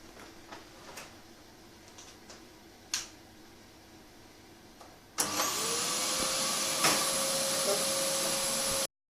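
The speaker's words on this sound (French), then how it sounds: "J'ai fini d'aspirer" A few sharp clicks and taps sound before a vacuum cleaner switches on. It then runs as a loud, steady whine until it cuts off abruptly.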